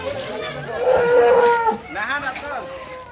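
Cattle at a village cattle market in Chandanail, Comilla, low with a long, loud, close moo, followed by a second, rougher bellow.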